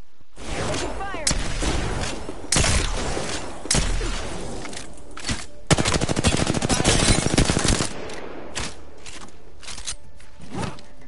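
Rapid automatic gunfire in a shooter video game, with bursts of machine-gun fire and single loud shots clustered together, a long sustained rattle in the middle, over a noisy battle backdrop.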